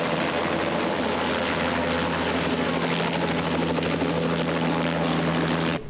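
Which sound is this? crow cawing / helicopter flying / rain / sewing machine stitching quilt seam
helicopter flying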